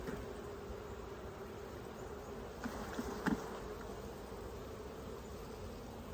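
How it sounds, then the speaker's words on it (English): A steady, dense hum of many honey bees buzzing close by as bees emerge from a hive frame, continuous throughout with a faint brief knock in the middle. "These bees are emerging."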